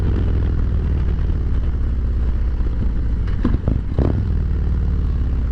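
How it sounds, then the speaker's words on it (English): A 2023 Harley-Davidson Road King's engine rumbles steadily and loudly while riding, with a brief change in pitch and a clattering shift partway through as the rider downshifts and blips the throttle. "Downshift, rev match."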